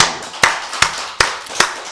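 A church congregation claps during a Wednesday worship service, with four evenly spaced, sharp hand claps sounding close and clear above a soft background murmur.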